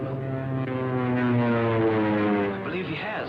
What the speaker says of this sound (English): There's a scout plane.